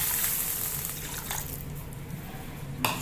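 Water pours steadily into a pan of masala for a fish curry, making a continuous splashing gush with faint sizzling and a brief clink near the end. No one speaks.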